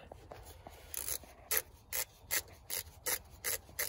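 A ratcheting screwdriver backs out the MAP sensor screw on a Honda Accord. Close, rasping clicks come in a regular series of short strokes, about two per second, with no talking.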